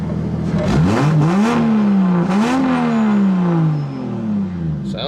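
2JZ-swapped Nissan S14 engine revving up twice and then settling back down, loud and near, a rough, throaty tone with a slight clatter.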